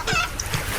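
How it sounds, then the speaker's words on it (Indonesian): Chickens in the Minecraft video game give short soft clucks, a quick close pair of bird calls in a farm setting. "Dan ini juga ada ayam"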